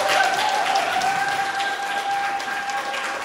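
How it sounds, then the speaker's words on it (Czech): An audience in a hall claps at a steady, even level for a few seconds after a group's song performance, with a faint tonal hum running underneath. "že jim prosím zatleskejte"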